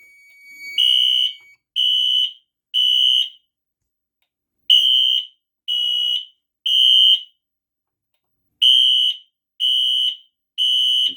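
A Fire-Lite MS-9600UDLS fire alarm system sounds after a photoelectric smoke detector in an elevator lobby trips: three sets of three loud piercing electronic horn blasts, the temporal-three pattern, separated by brief pauses.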